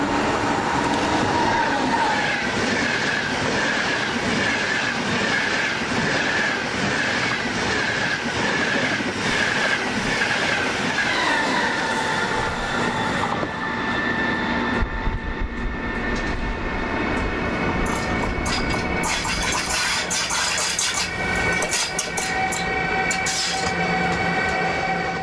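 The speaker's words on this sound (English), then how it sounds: "At 1:44 p.m., a southbound Frecciarossa passes the point that the northbound Venice Regional had just cleared." A southbound Frecciarossa high-speed train rushes through the station at San Pietro in Casale, a loud continuous roar of wheels and rail with steady rumble, clickety rhythm and some squealing building toward the end, with no voices.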